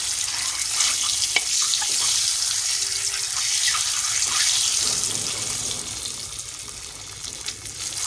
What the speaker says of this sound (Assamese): ৰঙা হোৱাকৈ ভাজি ল'ব কণীকেইটা ধুনীয়াকৈ